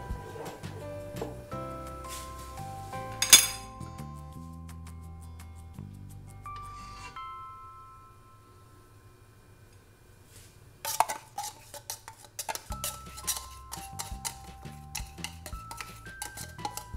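Rice pudding with condensed milk being stirred in a pot, a spoon knocking and scraping against the metal in soft irregular clinks, with a quiet lull before the stirring picks up again with brighter clatter, set against music.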